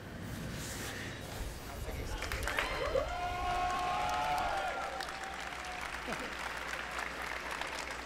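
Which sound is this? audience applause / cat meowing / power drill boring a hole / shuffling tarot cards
audience applause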